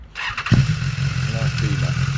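A BMW motorcycle engine cranks and catches, then settles into a steady, low idle close by while people chat nearby.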